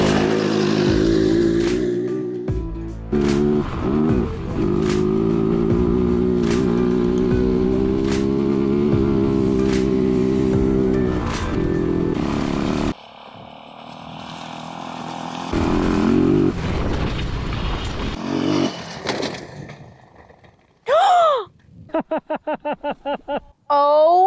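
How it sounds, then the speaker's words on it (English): A homemade 50-horsepower F150 Power Wheels build drives past, its engine snarling loud and close with revs that surge and drop off abruptly several times. Brief voices and excited shouts break in near the end. "I'm gonna drive right by you. So you can see me crest the corner."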